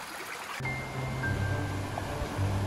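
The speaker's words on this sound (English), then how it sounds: "Look at this cute little river." Small river rushing through bushland at Cathedral Ranges, a steady broadband rush of flowing water close by that swells after a brief quieter opening and stays continuous, with no talk.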